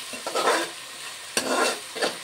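A ladle stirs bagara rice in a pot, giving two scraping, rustling strokes against the metal with a soft sizzle underneath, close and moderately loud, with no voices.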